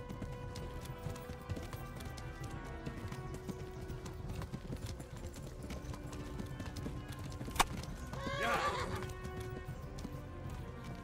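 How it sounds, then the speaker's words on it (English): Rapid rhythmic hoofbeats of a galloping horse in Kingdom Come: Deliverance, followed by a sharp snap and a loud whinny near the end. "This horse just keeps galloping."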